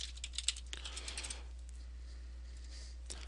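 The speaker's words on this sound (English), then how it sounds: "I'm going to type in my password." Password typed on a computer keyboard, a quick run of faint, close key clicks over a steady low hum, ending with one last tap.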